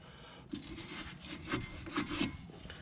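Small brush scrubbing the brake caliper on a 2006 Toyota Tundra during a front pad change: steady, close, rasping back-and-forth strokes in a gritty rhythm, about four firm scrubs heard alone.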